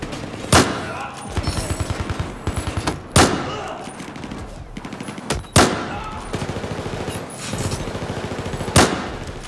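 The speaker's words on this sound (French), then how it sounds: "Je tire!" Gunfire from a gun in the Battlefield 4 video game: rapid automatic bursts broken by several loud single booming shots, close and punchy, repeating across the whole stretch.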